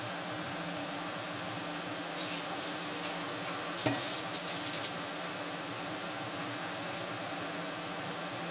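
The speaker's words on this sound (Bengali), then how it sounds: "নেড়ে চেড়ে দিচ্ছি।" Potol curry with water, salt and turmeric stirred in a pot, a steady soft simmering hiss with scraping strokes in the middle and one sharp clink, no talking.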